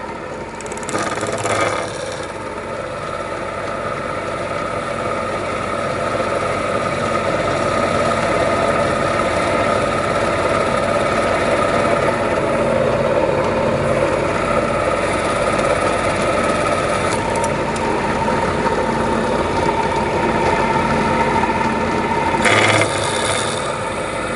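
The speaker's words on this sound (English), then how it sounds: "I'm really fond of this old drill press." A 1946 drill press drills out brake lining rivets on a Knucklehead motorcycle, a steady motor drone with a mechanical whine throughout, loud and close, with brief sharper rattles near the start and end.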